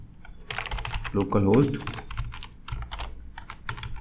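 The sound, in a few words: typing localhost on a computer keyboard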